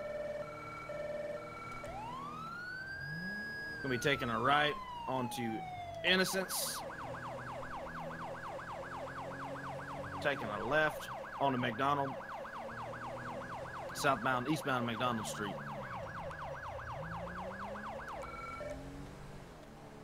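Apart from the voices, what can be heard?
police siren in a video game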